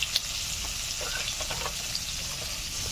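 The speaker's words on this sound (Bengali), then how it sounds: "রুই মাছ ভাজা হচ্ছে" Pieces of rohu fish fry slowly over medium heat in oil with a close, continuous crackling sizzle, small pops and a couple of sharp ticks near the start.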